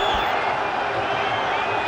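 A cricket crowd at Trent Bridge roars steadily through a tense finish of a Pakistan versus South Africa World Cup semi-final, a dense, continuous wash of cheering with scattered whoops and some mixed-in voices.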